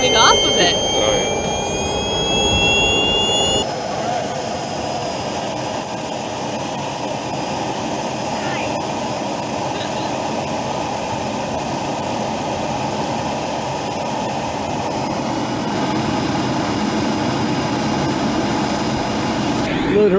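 Close and loud, a giant RC model airplane's jet turbine at a Midwest warbird event screams with a high sustained whine over a heavy roar for a long stretch, with people talking excitedly nearby.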